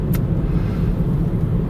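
Steady low rumble inside a moving car: dense road and engine drone, loud and constant throughout, with no talk over it.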